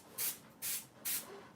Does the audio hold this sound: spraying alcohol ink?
yes